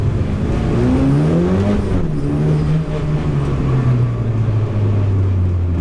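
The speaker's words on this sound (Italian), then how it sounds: "Il sound è il classico sound a 4 cilindri turbo, però qui non avendo alcun tipo di insonorizzazione, uno scarico in titanio" A Dallara Stradale's four-cylinder turbo engine with a titanium exhaust, heard close and loud from the car as it pulls steadily, its pitch rising through a gear and then settling into a sustained drone.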